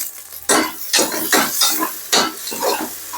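Green chilies and tomatoes frying in a pan for a chicken curry, heard as several loud, close bursts of stirring and scraping over a low sizzle.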